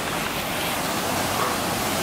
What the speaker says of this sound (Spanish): no sé si me escucharéis porque hay una cascada